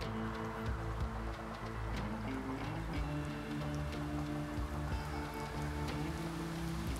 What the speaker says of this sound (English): The rain starts.